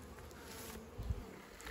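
Honeybees buzzing at a hive entrance after a swarm was merged with a mite-weakened colony, a steady faint hum with a brief louder swell near the end.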